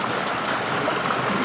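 Flood water rushes steadily in a dense, continuous broadband roar, close and loud throughout with no breaks.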